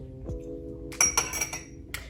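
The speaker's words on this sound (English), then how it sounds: "I like to give it just a little beat to help it get started" Three large eggs being beaten in a bowl for zucchini bread: a short burst of sharp utensil clinks against the bowl, then a final clink after a pause, close and clear over a quiet room.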